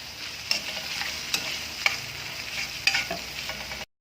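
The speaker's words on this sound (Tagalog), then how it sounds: "Ilaglag na rin natin yung ating carrots. Isang mabilis na halo ulit." Mixed vegetables with carrots being sautéed and stirred in a pan, a low steady sizzle with several sharp spatula clinks and scrapes, near and without talk, ending abruptly.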